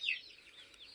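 A hen clucks briefly in a coop where a rooster and a hen with chicks are kept, one short, fairly faint cluck at the start followed by quieter rustling.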